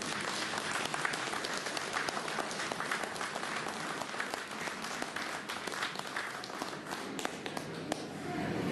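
A crowd gives a big round of applause for Brian Johnson at a fan event, continuous dense clapping held at an even level throughout.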